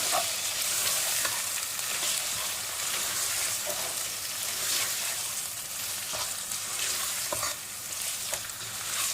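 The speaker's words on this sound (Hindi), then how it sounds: "अब इसमें हम डालेंगे चिकन" Chicken pieces fry in a hot pan with a dense, loud sizzle and crackle that runs on steadily, with occasional sharper pops and no voices.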